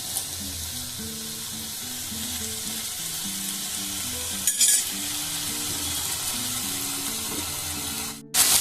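Bitter gourd and potato frying in an oiled pan, a loud, steady sizzle close by, broken by a sharp scraping stir midway and another clatter of the utensil at the very end.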